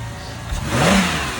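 A Pontiac's 3.5-liter V6 engine idles, then briefly revs up and settles back, close and fairly loud, at a police towing auction.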